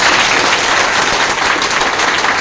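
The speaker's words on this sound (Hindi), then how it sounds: "चलिए एक बार अपने लिए शानदार ताली बजा लीजिए।" A large audience at a network-marketing seminar claps loudly and continuously. The applause forms a dense, close roar that keeps a steady level for the whole stretch.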